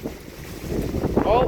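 A strong wind gust roars through a heavy thunderstorm in southeastern Pennsylvania, a dense rushing blast that builds louder toward the end, with a brief exclamation from a voice nearby.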